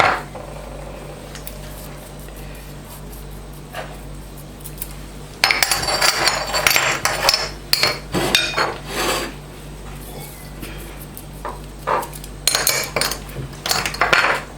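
Metal utensil clinking and scraping against a dish while salt and spices are stirred together for an Iraqi fish recipe, in rapid irregular bursts after a quiet start, fairly close, with no voices.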